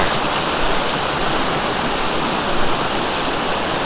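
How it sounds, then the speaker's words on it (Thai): A waterfall's lower tier at Huai Nam Sai village in Suan Phueng, Ratchaburi, Thailand pours in a loud, constant broadband rush, steady and close with no voices. "น่าจะเป็นชั้นน้ำตกชั้นล่างเลย"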